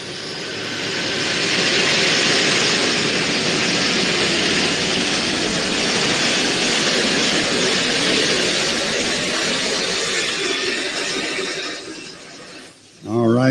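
A tractor pull with a Huey helicopter turbine engine dragging a heavy sled, giving a loud, sustained turbine roar and whine that holds steady before cutting back near the end.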